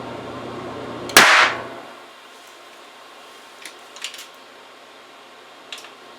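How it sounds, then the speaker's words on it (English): A single loud, sharp bang from a gas implosion in a resonance experiment, sudden and close, decaying quickly into quiet with a few faint clicks afterward. "there's a lot of gas there, so it's going to make a hell of a bang"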